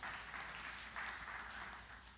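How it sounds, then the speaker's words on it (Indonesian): A church congregation applauds during a sermon, a dense, continuous clapping from many hands heard at moderate distance for a couple of seconds. "Yang percaya beri tepuk tangan yang meriah bagi."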